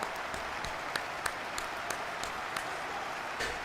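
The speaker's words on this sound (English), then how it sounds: "we'll give him some claps as he comes off the field" Crowd applause rises in Madden 23 as an injured Bears linebacker leaves the field, a sustained wash of clapping with scattered sharper claps standing out over several seconds.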